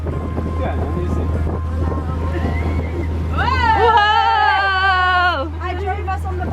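A boat runs on the open sea off Malta with steady engine and wind rumble, then a loud excited voice cries out over it.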